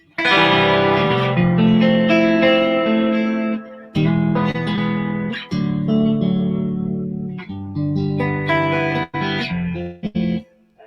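Electric guitar played through a Victory valve amp with reverb and modulation effects, sounding as loud, sustained chords and notes that ring out and break off in several phrases, close and without talk.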